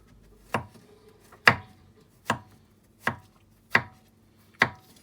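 A knife slices through mushrooms on a cutting board, six crisp, evenly spaced chops landing close and clear over near silence.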